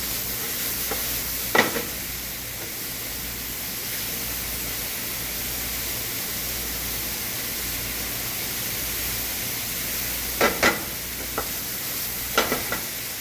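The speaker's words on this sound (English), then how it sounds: "You want to add this and let it saute a little bit to start extracting some of the oils out of the dried herbs" Dried herbs sauté in a pan for penne chicken primavera with vegetables, producing a steady, even sizzle, broken by a few sharp stirring scrapes early on and again near the end.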